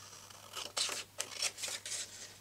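Scissors trim excess paper from a journal page, a quiet series of about six crisp snips in an irregular rhythm, close by in a calm room.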